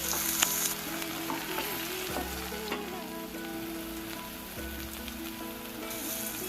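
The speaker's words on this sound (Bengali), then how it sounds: "আলু আর বেগুনগুলোকে একটু লালচে করে ভেজে নিতে হবে" Potatoes and eggplant frying in oil over a medium gas flame, a steady close sizzle with crackling and occasional stirring scrapes, backed by a low continuous hum.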